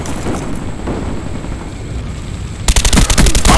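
Sustained AK47 fire in Black Ops, a dense, steady rattle of game gunfire running for about two and a half seconds, followed by a louder burst of sharp, closer shots at the end.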